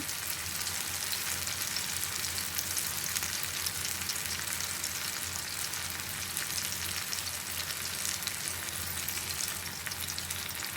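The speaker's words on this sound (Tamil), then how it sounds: "மீடியம் ஃப்ளேமில் வச்சு வறுத்துக்கோங்க, இல்லைனா தீஞ்சிரும் மீன்" Fish fries in a pan over a medium flame with a dense, even crackling sizzle that stays close and constant throughout, with no speech.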